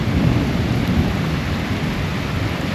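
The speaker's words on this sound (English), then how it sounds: "And it's raining again." Heavy rain with rolling thunder during an outdoor welding build session, a dense loud continuous roar of rainfall with deep low rumbling throughout, no voices.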